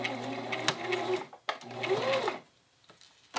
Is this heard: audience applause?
no